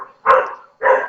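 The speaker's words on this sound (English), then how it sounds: "My dogs are barking." Dogs bark twice in the background of a home, two loud separate barks with a short gap between them and no talk.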